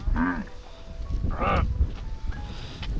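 Cattle herded by Maasai in the Masai Mara give two or three distinct moos, one after another over open ground, against a faint outdoor background.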